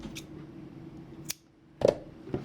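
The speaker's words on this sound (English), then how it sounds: "so I can cut my yarn" Scissors snipping crochet yarn at a finished flower, a few short, close crisp cuts spaced apart over a quiet background.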